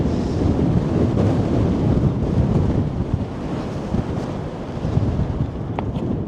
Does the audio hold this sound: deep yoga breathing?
no